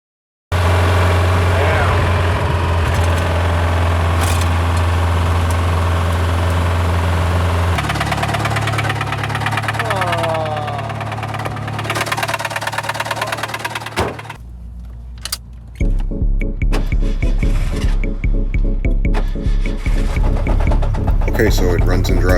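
A turbocharged 2.3-litre Ford Ranger engine runs loudly and steadily with a pulsing rumble, shifting in tone partway through before settling into a rapid, rhythmic idle chug, with voices talking over it.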